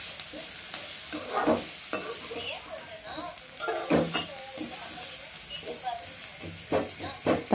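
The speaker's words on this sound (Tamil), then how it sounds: "தக்காளி நல்லா வதங்கட்டுங்க" Tomatoes and onions sauté in a pan for soya kurma, a soft continuous sizzle with intermittent stirring scrapes and light knocks of a spoon, nearby and moderately loud, with faint talk at times.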